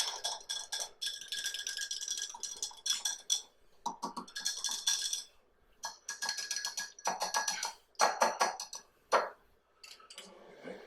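A utensil clinks and rattles rapidly against a bowl while turkey injection seasoning is stirred, in bursts of quick scraping taps with short pauses, fairly quiet and close.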